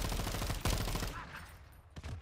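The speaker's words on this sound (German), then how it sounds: "hier schießen sie mit Raketenwerfern" Heavy gunfire and explosive blasts from a Call of Duty Modern Warfare 2 (2022) battle, with dense, loud bursts throughout, a strong impact near the middle and another blast toward the end.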